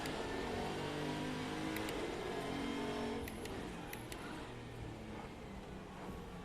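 Race car engines in Assetto Corsa at Brands Hatch Indy roar and whine, shifting pitch as they rev and pass, with a few sharp high clicks mixed into the continuous mechanical noise.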